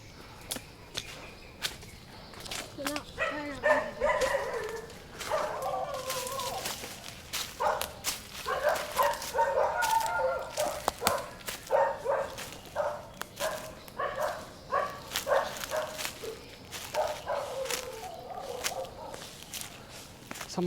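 Several stray dogs bark repeatedly in short bursts at a moderate distance on a mountain temple path in Phatthalung, Thailand, an irregular, ongoing chorus over faint outdoor background noise.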